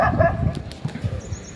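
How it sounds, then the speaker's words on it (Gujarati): Black dog barking outdoors on a Gujarati farm, a run of several short rough barks at a moderate distance, with some yips mixed in and no talk. "જો ઓલો કાળો જે કૂતરો છે ને"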